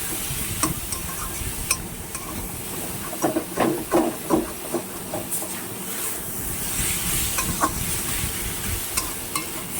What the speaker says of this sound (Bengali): এটাকে ভালো করে নাড়তে হবে